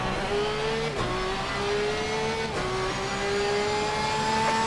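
A race car engine in a wet-weather racing video game drones at high, steady revs, its pitch climbing and then dropping sharply at each gear shift, loud and continuous with no talk.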